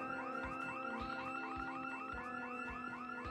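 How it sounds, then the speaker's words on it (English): A house alarm blares in the video game Project Zomboid, a steady electronic siren repeating a rising whoop roughly every third of a second, loud and unbroken with no talk. "so that one right there had a house alarm"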